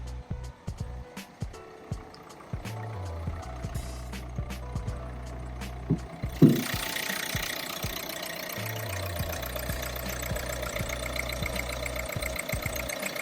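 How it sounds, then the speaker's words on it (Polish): Renault Scenic PH3 1.5 dCi diesel engine idling under an open bonnet, a steady low rumble with a faint diesel knock, running alone without talk and growing slightly louder partway through. "Posłuchamy pracy silnika."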